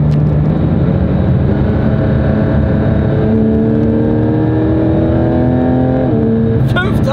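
A car engine revs up steadily, its pitch climbing through the gears inside the cabin, loud and continuous, with a brief gear shift near the end.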